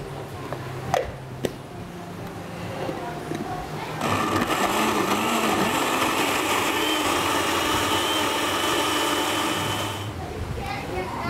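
A countertop blender whirs as it purées coconut soup, its motor starting abruptly after a few clicks, running loud and steady for about six seconds, then cutting out, with a person talking before and after.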